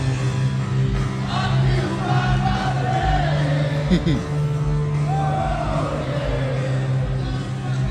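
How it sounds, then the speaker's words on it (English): A concert crowd sings along with a band playing songs, a dense, steady roar of massed voices over loud, sustained music, with rising whoops and shouts breaking through. "I don't mind the crowd singing along, y'all"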